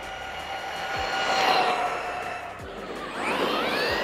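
An Omni Terminator RC car with a carbon brush motor runs at full throttle, its high electric whine rising and falling as it speeds by and comes around again, fairly loud and steady with no voices.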